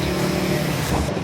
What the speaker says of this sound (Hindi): मैंने भी अपनी बाइक शुरू करी